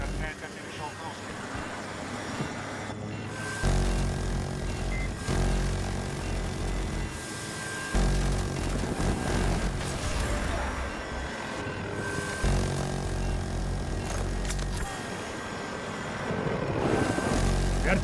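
An enemy helicopter in Battlefield 2042 drones overhead with a steady rotor and engine hum that persists under bursts of combat noise and game voice callouts in Russian.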